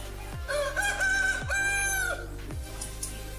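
A Dong Tao rooster, the Vietnamese dragon chicken breed, crows loud and close in one long harmonic call, with short clucks and farm noise around it.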